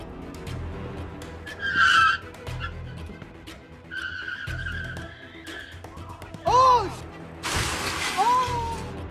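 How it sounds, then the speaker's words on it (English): A white Volkswagen Golf swerves around a row of cars in a Moreno Valley parking lot and crashes into a gym: repeated tire squeals and skids, a sharp impact with shattering, and other loud bursts over a busy background. "a white Volkswagen Golf can be seen swerving around a row of cars in the parking lot before crashing into the gym"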